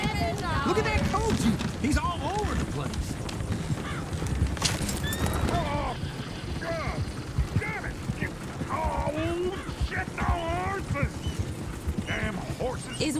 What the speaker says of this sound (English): Is one of you gonna get that fella's horse?